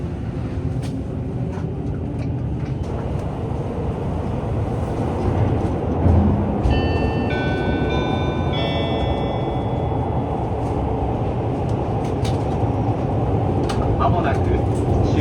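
JR E259 Narita Express train running near Narita Airport, heard from inside: a steady rumble of wheels and motors with rail clatter, a brief high whine or squeal in the middle, and someone speaking over the train noise.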